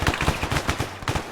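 Rapid bursts of gunfire crackle in a military video game, a fast volley of sharp cracks at close range with no voices over them.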